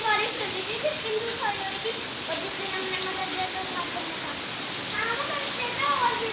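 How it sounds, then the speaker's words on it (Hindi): Steady rain hisses down close by, a dense continuous patter, while children's voices chatter and call out over it. "ये देखो बारिश, इसे बोलते हैं बारिश"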